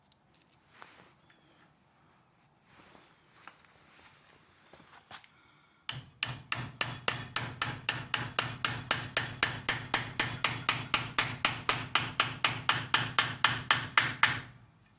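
A hammer drives a pin into the front brake assembly of a 1928–1931 Ford Model A during a disc brake conversion. After a few faint clicks, a fast run of about forty sharp metallic taps rings out close and loud.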